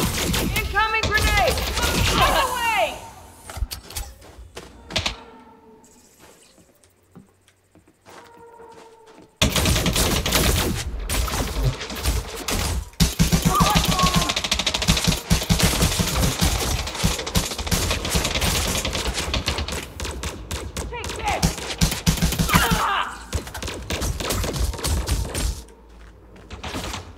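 Rapid bursts of automatic gunfire fill an on-foot firefight in the video game Elite Dangerous Odyssey. The shots come loud and dense in long strings, with a short lull partway through and a voice speaking over parts of it.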